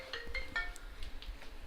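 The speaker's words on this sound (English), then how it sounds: "Phone ringing." A phone rings during live casting of a Dota 2 pub match, with a short series of electronic tones repeating quickly over a low background hum and no speech.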